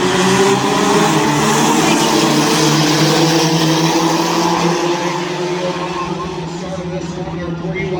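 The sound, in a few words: front-wheel-drive race cars racing at Adams County Speedway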